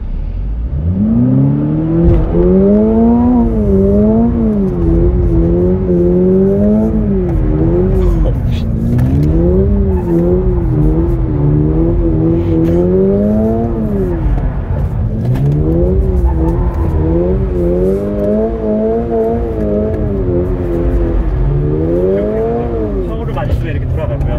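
A Toyota GR86 boxer engine repeatedly revs up and eases off in rising and falling sweeps, loud and close, accelerating through turns on the Inje Speedium race track.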